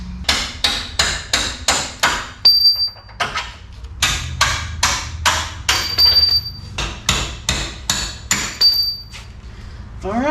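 A hammer drives a brass punch against bolts on a Dodge Dakota 8.8 rear axle, about a dozen sharp, loud metallic blows in a quick steady rhythm, some with a brief ringing tone.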